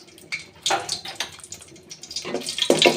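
Dried chilies dropped into hot oil: short, close bursts of hissing sizzle, one surge early and a louder one near the end, with no talking.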